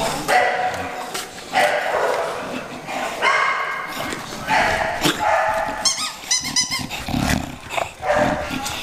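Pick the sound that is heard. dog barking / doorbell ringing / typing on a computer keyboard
dog barking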